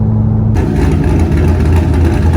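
A drift car's engine starts and then revs, first a low idle hum, then a sudden loud, rough, throaty roar that holds steady and close, with no talking.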